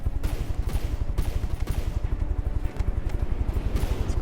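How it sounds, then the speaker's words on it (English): Rapid cannon fire from Tank Rangers in a video game, with custom low-caliber cannons peppering away in dense, continuous bursts of fast repeating shots that stay loud and steady throughout. "All the Tank Rangers peppering away with their advanced custom cannons."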